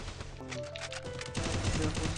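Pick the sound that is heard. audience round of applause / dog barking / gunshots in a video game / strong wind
gunshots in a video game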